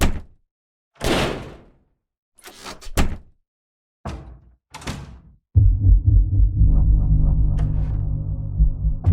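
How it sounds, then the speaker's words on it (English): Doors in a church bang open one after another: several sharp, separate knocks and thuds with short gaps, then a continuous heavy rumbling rattle that carries to the end. "a series of bangs as doors began flying open in every room of the church"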